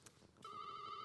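A cell phone rings at a 2010 jazz camp press conference, its steady electronic ringtone beginning after a brief quiet stretch with faint room noise and soft shuffling, and continuing clearly to the end.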